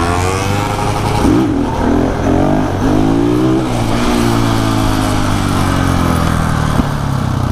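A Husqvarna motorcycle engine revs hard for a wheelie on the street during a cruise night, its pitch climbing in several rising surges before settling into a loud, steady drone close by.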